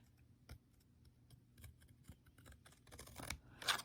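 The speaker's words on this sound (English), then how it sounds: "Now I'm going to take scissors, and I am just going to cut" Scissors snipping polymer clay at close range in a series of short, crisp cuts that come quicker and louder toward the end, with no talking.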